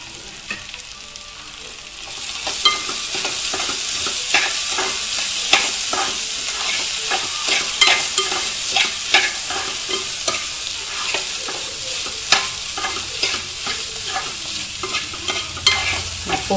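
Chili powder and salt being stirred into bitter gourd curry frying in a pan, a constant close sizzle punctuated by rhythmic spatula scrapes and clicks against the pan, with no voices.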